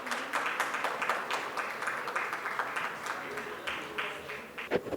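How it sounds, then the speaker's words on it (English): An audience at a conference applauds with steady, moderately loud clapping that continues throughout. A few louder individual claps stand out near the end. "A round of applause for Mr."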